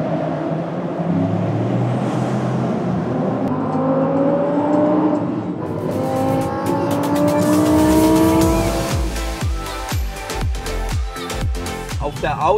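A column of hypercars and supercars, including a Sian and two Chirons, downshifting together on a closed-off autobahn, heard through an open window as a loud, continuous engine roar with rising revs and crackling pops toward the end.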